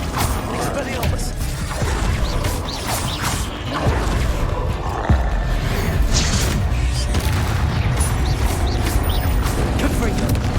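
Combat spellcasting in Hogwarts Legacy, an Expelliarmus disarming spell amid a dense wash of game effects: repeated whooshes, clanks and mechanical rattles, with thuds and crashes layered throughout and a voice faintly mixed in.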